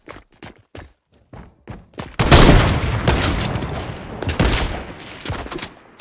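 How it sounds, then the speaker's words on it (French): Semi-automatic sniper rifle fire in a video game: a quick series of sharp separate shots at first, then a dense, loud barrage of overlapping gunfire and impacts, close and punchy. "Sniper semi-auto, j'y arrive."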